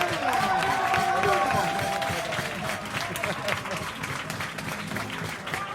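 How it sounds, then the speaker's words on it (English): Nearly a hundred restaurant staff clapping and cheering, dense continuous applause mixed with shouts and voices, loud at first and easing slightly as it goes on. "getting their applause, and people are cheering"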